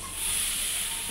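Water poured onto fried spice paste of cumin and radhuni in a pan for a local fish curry gives off a steady, close, broad sizzling hiss that holds without break.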